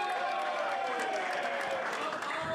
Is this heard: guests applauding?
yes